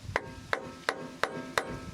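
A hammer strikes a wood block five times at an even pace to seat a u-joint on the front axle of a 2008 Ford F250 diesel Super Duty, each a sharp, close, solid knock with no talking.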